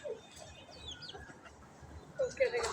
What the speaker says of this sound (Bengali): আর এই হলো আমাদের মুরগি